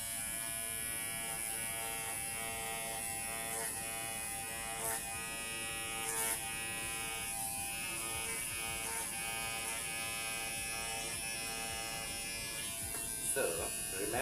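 An electric rug carving machine trims a tufted rug, giving a steady, close buzzing whine throughout with slight dips as the blade works the pile.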